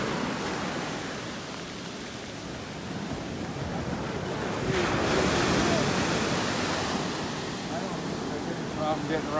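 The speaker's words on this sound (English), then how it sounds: "These waves are really big right here" Big ocean waves break continuously on a beach during a tropical depression, a loud steady roar of surf with wind, swelling midway.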